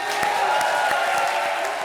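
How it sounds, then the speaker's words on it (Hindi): A studio audience on a Hindi comedy show applauds and cheers for Sonu, a steady wash of clapping with scattered whoops at moderate distance, filling the whole moment without a break. "खैर एक बार सोनू भाई के लिए जोरदार तालियां"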